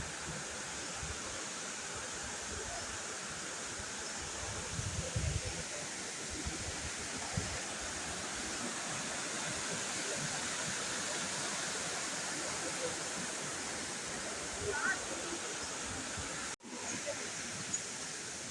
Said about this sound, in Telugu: ఇది రెండవ స్టెప్ వాటర్ ఫాల్ అనమాట.